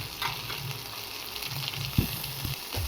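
Turmeric and Kashmiri chili powder frying in hot oil in a pan, giving a steady sizzle with a few stirring clunks and scrapes, close and unaccompanied by talk.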